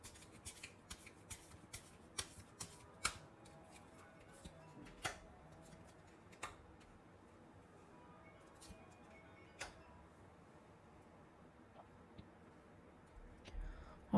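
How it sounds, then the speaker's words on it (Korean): Tarot cards are handled and drawn for an advice reading, with soft scattered taps, flicks and card slides, quiet and close, over a faint room background. "그러면 이 관계에 대해서 조언 카드 한번 뽑아보도록 할게요"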